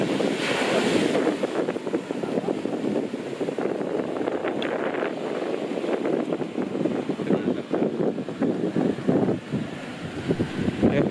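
Continuous roar of ocean surf washing onto a beach at Alas Purwo, Indonesia, steady and loud, with wind buffeting the microphone.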